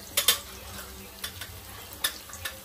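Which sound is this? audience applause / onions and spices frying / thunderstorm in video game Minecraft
onions and spices frying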